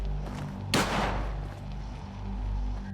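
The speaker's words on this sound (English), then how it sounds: "you'll hear a lone gunshot" A single loud gunshot cracks near Hugo's Hole in the Fallout 4 video game, one sharp burst that decays quickly over a low ambient drone.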